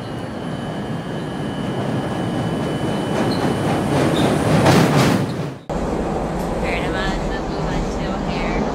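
An L train subway car rumbles along the rails at a steady roar. Wheels squeal briefly, and the sound cuts abruptly to a quieter ride with faint voices in the car.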